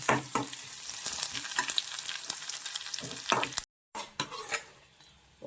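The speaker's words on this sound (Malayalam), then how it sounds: "ഉണക്കമുളകും കുറച്ച് കറിവേപ്പിലയും കൂടി ഇട്ട് നന്നായിട്ട് ഇതിനെ ഇങ്ങനെ മൂപ്പിച്ചെടുക്കണം" Dried red chillies and curry leaves fry with onion and mustard seeds in hot oil for a tempering, with a crisp close sizzle and frequent spoon scrapes against the pan, broken by a brief silent gap.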